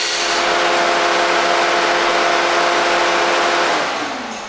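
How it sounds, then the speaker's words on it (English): A 1000-ton hydraulic press with 72-inch heated platens decompresses while its motor runs, a loud steady broadband hiss with tonal hum that winds down near the end as the motor shuts off. "Okay, there's decompression."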